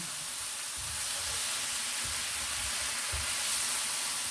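Pork browning in a hot frying pan gives a steady, close sizzle and hiss that runs unbroken, with a few soft low bumps of movement in the pan.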